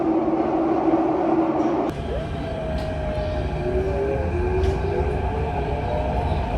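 A Singapore MRT metro train runs along the line, a steady loud rumble of wheels and motors with a rising and falling electric whine, heard from inside the carriage with no talking.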